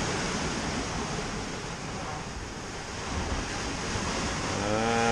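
Steady broadband wind and rushing sea surf aboard a Lagoon 42 catamaran sailing across the Bay of Biscay in about 20 knots of wind, continuous and close to the microphone.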